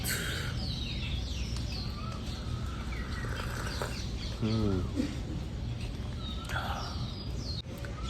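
Scattered bird chirps and calls ring out over a steady outdoor background, with a brief low fluttering burst midway.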